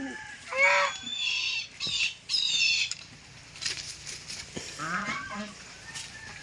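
Several squawks and clucks from chickens, close and irregular, with short pauses between bursts and faint rustling in the background.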